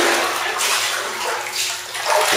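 Hot water runs loudly from a tap into a bathtub, a steady, close, broadband splashing rush that continues through the whole clip with no talking.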